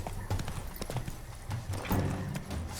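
Hooves of Roach, the horse in The Witcher 3 video game, pound out a fast, rhythmic galloping clip-clop up close, with occasional rattling of tack.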